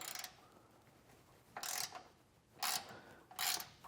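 A 12mm socket on a ratchet wrench loosens bracket bolts on a 2024 Toyota frame, three quick raspy ratcheting bursts spaced about a second apart, close and fairly quiet.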